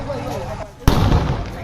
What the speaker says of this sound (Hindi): देखिए किस तरीके से आवाज बम धमाके की।